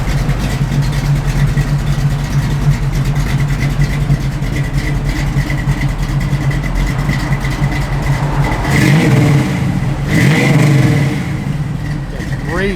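A 1969 Chevrolet Nova with a lumpy aftermarket cam runs loud and close, idling roughly, then blipping the throttle for two short revs near the end, with someone talking over the engine.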